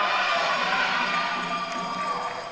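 Singapore supporters cheer wildly in a loud, dense crowd roar at a men's World Cup third-place match against Switzerland, a sustained din of voices and noise with no pause.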